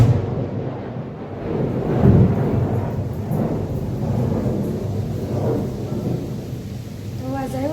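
Deep rumbling thunder rolls and swells over several seconds during heavy overnight rain in Mahuva, low and heavy, with a faint voice near the end.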